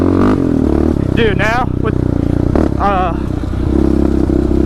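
A Yamaha Raptor 700 ATV with a Vortex ECU, its engine droning loud and steady while being ridden, with two rising rev sweeps, and someone talking over it.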